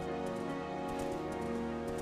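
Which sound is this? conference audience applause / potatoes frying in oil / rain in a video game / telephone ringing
rain in a video game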